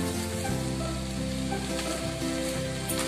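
Hot water poured into a chicken meatball kofta curry pan sets off a loud, dense, continuous sizzle heard up close, with faint stirring and no voices.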